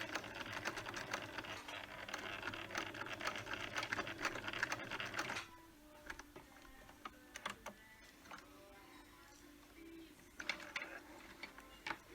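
A sewing machine stitches fabric with light-colored thread while a mask is sewn, running loud and steady for about five seconds, then quieter scattered ticks and clicks follow.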